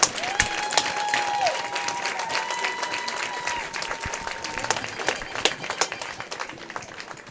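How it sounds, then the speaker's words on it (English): A football stadium crowd at a high school senior night applauds seniors and their parents, a sustained, distant-sounding wash of clapping with faint tonal notes drifting over it. "Please give these seniors and their parents a round of applause"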